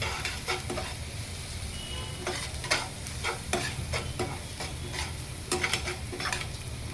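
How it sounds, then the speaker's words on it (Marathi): Ginger, garlic and chili fry in a pan for soybean chilli, with a constant close sizzle broken by repeated scraping stirs at an uneven rhythm. No voices are heard. "व्यवस्थित अद्रक लसूण मिरची व्यवस्थित शिजवून घ्यायची, कच्ची नाही राहिली पाहिजे"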